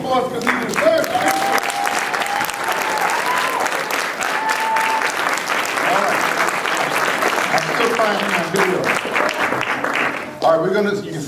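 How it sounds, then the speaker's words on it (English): Conference audience giving a speaker a long round of applause, dense clapping from a large crowd with a few whoops and cheers mixed in, tapering off near the end. "Let's give this man a round of applause because he deserves it."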